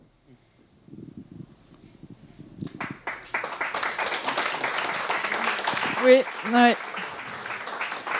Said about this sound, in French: Vous avez bien raison de les applaudir